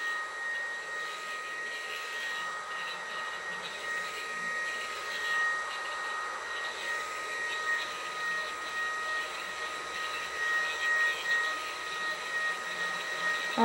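An electric fan runs outdoors as a steady, fairly loud whirring hum with a constant tone, filling the background without pauses and with no speech over it.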